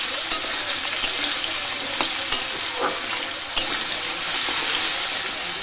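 Potatoes frying till reddish in a pan for a Bengali ridge gourd and poppy seed dish, a steady close sizzle with scraping stirs of a spatula throughout.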